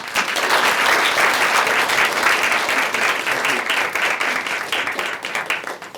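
Sustained, loud audience applause greets keynote speaker Maggie Haberman at the 2017 Christopher J. Georges Conference, a dense wash of clapping hands filling the hall without pause for about six seconds.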